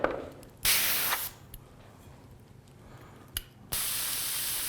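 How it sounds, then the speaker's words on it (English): An airbrush spray gun sprays paint onto a Darth Maul figure in two steady, close hissing bursts separated by a quieter stretch with a faint click. "make sure it's spraying right"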